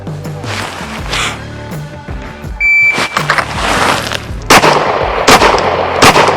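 Pistol shots ring out on an outdoor range during an advanced qualification course of fire, with three sharp, loud reports spaced about a second apart amid beeps and a shot-timer tone, with no talk.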